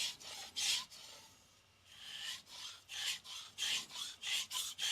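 Gyuto knife, a Nakamura Hamono 180mm Aogami #1 blade, being sharpened on a Naniwa whetstone: close rhythmic wet scraping strokes, about ten in a row with a brief pause near the middle, no talk.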